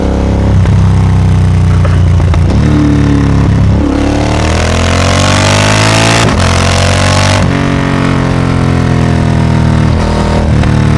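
A 2025 Triumph Speed Twin 1200 RS parallel-twin motorcycle with a full-system exhaust is ridden on a cold day, its loud, close engine note rising through the gears with throttle swells and brief shift dips.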